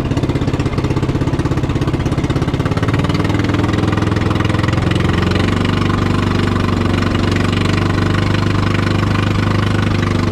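A loud, steady boat engine chugging and knocking at close range, its low drone continuous throughout with slight shifts in pitch.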